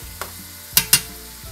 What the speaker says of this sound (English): I'm gonna add this ground pork. I'm gonna turn the heat up and let this really start to brown well